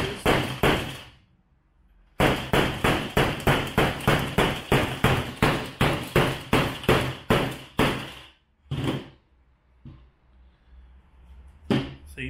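A hammer strikes a Lensun CustomizPro screen protector over and over: a loud, steady series of sharp impacts, about two per second, after a few opening blows and a pause, then scattered knocks toward the end.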